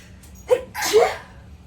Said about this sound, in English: feel like I have to sneeze